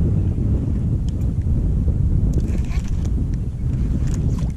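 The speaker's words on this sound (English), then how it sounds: "I hate jig fishing in the wind." Wind buffets an outdoor microphone during jig fishing, a loud continuous low rumble throughout with faint light rustles above it.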